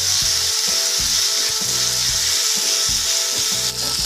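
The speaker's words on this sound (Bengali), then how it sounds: "খুব ভালো করে এটাকে কষিয়ে নেব।" Ginger garlic paste frying with onion sizzles loudly and continuously while a spoon scrapes the pan in a steady back-and-forth rhythm, roughly twice a second.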